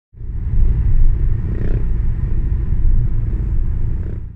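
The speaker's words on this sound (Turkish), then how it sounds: "abartılı egzozlu ve plakasız motosikletleriyle çevreye rahatsızlık vererek" Motorcycles with loud modified exhausts rumble along a road at night, a deep continuous roar that swells and holds close by, with no talk over it.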